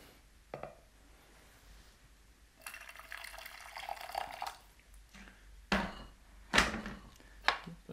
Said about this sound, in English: we'll add a little bit more boiling water to this